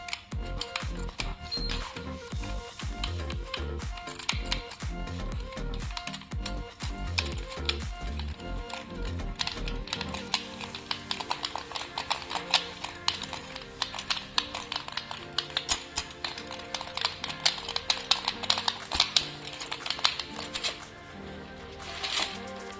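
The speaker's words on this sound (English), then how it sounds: "when someone presses the keyboard, for example say this, it would behave this way" Computer keyboard keys pressed in quick, steady clicking runs, close and crisp, continuing throughout with dense tapping.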